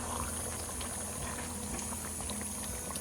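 Mutton curry simmers in a pot, a steady close bubbling boil with soft gurgles and faint stirring clinks running continuously without talk.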